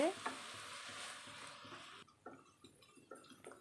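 Ingredients sautéing in a pan with a little salt: a close sizzle with spatula stirring strokes that drops away midway, leaving softer, sparser stirring taps and scrapes.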